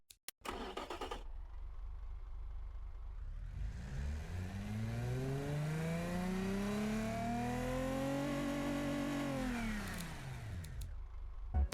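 A 1997-style car engine in Automation starts, then revs up steadily, its pitch rising and holding high before falling back to idle. The engine is clear and close, and no talk is heard over it.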